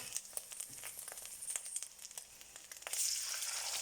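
Bacon rasher dropped into a hot pan, a crackling fry with scattered pops, swelling into a louder, steady sizzle in the last second.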